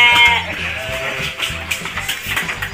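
Texel sheep bleat loudly and repeatedly close by while being loaded onto a farm truck, with overlapping cries, shuffling hooves and a faint voice in the background.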